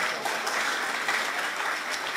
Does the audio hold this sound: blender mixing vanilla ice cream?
no